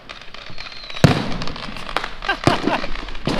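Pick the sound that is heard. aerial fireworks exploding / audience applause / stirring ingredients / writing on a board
aerial fireworks exploding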